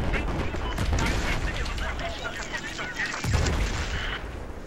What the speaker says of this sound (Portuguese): Que granada que é essa?